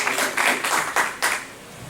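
A few bursts of clapping in a church as people applaud for the Lord, short separate rounds of hand claps, moderately loud and fairly close, with no talk over them.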